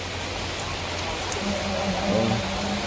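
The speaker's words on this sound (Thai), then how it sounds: "ฝนเทเอาเทเอาเลย" Steady heavy rain pours down in a broad, even hiss on the surroundings, with a faint voice briefly audible underneath.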